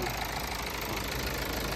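A 2.2-liter diesel engine in a 4x4 automatic crossover idles with its hood cover off, giving a steady, continuous low rumble with a faint knocking texture, close and even throughout.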